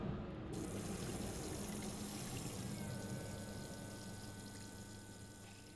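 Water running steadily from the hot and cold taps of a camper's pressurized water system, a continuous broadband rush with a faint pump-like hum underneath, close and fairly loud throughout.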